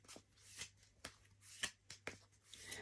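Tarot cards shuffled by hand, a quiet series of soft riffling bursts and taps at an irregular rhythm, close and alone with no talk.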